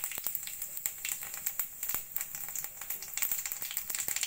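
Cumin seeds crackle and sizzle in hot oil in a kadai, a steady dense frying hiss broken by frequent sharp pops, close and continuous with no talk.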